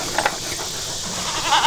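Goats bleat close by on a farm, a couple of loud wavering calls in under two seconds with no talk over them.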